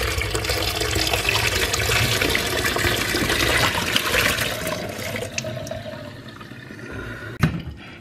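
Brown cleaning water made with a dishwasher tablet gushes out of a thermos flask in a steady, close pour that thins to a trickle, ending with a brief clunk.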